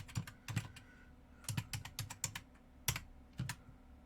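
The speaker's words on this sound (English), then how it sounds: "If I can type." Keys clatter on a computer keyboard in uneven bursts of quick presses with short pauses, close and fairly quiet, no voices.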